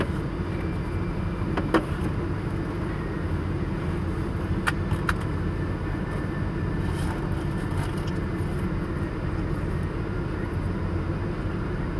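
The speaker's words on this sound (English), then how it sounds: "I'm driving a van." Steady low road rumble from inside a moving vehicle, constant engine and tire drone with a few faint clicks and rattles, no talking.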